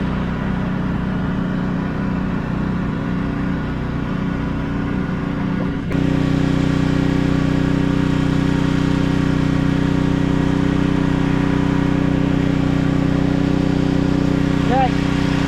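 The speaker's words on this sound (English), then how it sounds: "My pressure washer, you gotta let it run for like a minute" Gas pressure washer engine running steadily at a workshop, a loud continuous mechanical drone that steps up in intensity partway through and then holds an even, unbroken hum.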